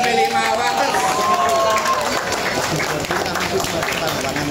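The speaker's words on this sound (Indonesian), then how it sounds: "Dan tepuk tangan untuk Intan Tiasningrum, Kulon Progo, SMP 5 Wates." Applause breaks out among a crowd at a youth cycling medal ceremony in Yogyakarta, a steady wash of clapping and murmuring over an amplified announcer's voice.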